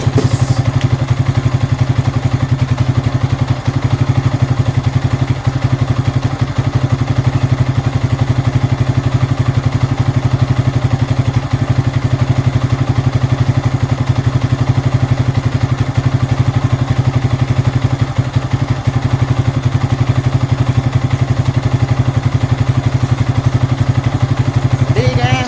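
A Yamaha Vixion motorcycle with a low radiator coolant level idles nearby, a loud, steady engine drone with no revving, running alone without talk.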